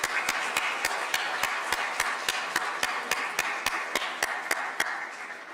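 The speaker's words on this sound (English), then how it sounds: "So give a big round of applause to all of our panelists." Applause for a panel of speakers at a live-streamed youth leadership event: crisp, evenly spaced claps close to the microphone, about three per second, over a soft steady wash of background noise, with no talking.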